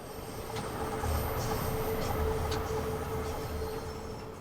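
A Bakerloo line 1972 tube stock train in the video game Train Sim World runs with a steady, fairly loud rumble and a faint electric whine, plus light rhythmic clicks over the track.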